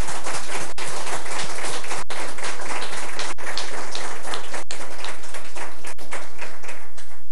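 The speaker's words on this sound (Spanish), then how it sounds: "Démosle un fuerte aplauso entonces." A congregation at a church gathering for a visit of Padre Pio's relics claps loudly and steadily, a dense rain-like wash of applause lasting several seconds with brief momentary dropouts.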